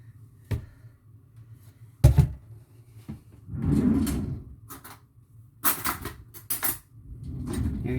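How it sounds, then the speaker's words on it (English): Meatloaf slides out of a glass jar onto a plate in a home kitchen, making a few short knocks and clatters, then a softer scraping slide and several more clinks of glass and dishware. "And then you just slide it onto your plate."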